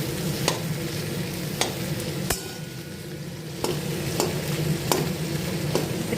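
Chopped onions sizzle steadily in a pan of hot oil while being cooked for Bengali muri ghonto, with a spoon scraping and clinking against the pan every second or so, close and fairly loud.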